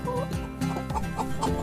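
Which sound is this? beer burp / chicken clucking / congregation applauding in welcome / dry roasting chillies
chicken clucking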